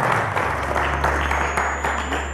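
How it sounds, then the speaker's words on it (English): A studio audience at a televised quiz show applauds in a steady, full wash of clapping with a low hum beneath it that lasts for a couple of seconds. "The audience, a round of applause to Chizom."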